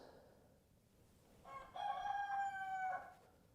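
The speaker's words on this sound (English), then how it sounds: "That black Australorp in the back, and then Elvira is that brown frizzled chicken." A rooster crows once, clear and moderately distant, amid a small farm flock that includes a black Australorp and a brown frizzled hen, with faint background noise before the call.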